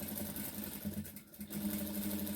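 A sewing machine stitching the pleats of a sari runs steadily with a fast mechanical hum and needle chatter, briefly easing off midway before resuming, close and alone.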